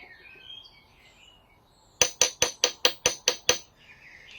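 Eight rapid, evenly spaced metallic taps ring out on a fork bolt during Honda VFR800 motorcycle fork removal, sharp and close with short ringing decays, birds chirping faintly in the background.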